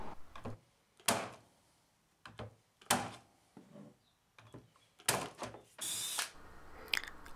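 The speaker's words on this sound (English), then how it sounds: "I drilled some holes in the base and then it could get attached to the uprights from the bottom." A power drill boring holes into a wooden menu holder base, heard as short separate whirring bursts with gaps of quiet between them, close by and with no talking.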